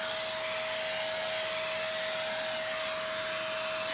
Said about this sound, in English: it goes straight into the vacuum here